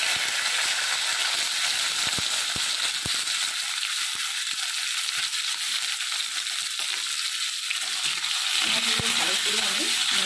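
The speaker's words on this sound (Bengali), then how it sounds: "আমি এবারে পেঁয়াজগুলো হালকা করে ভেজে নেব।" Onions frying lightly in a pan give off a dense, steady sizzle and hiss throughout, with occasional taps and scrapes and a brief voice near the end.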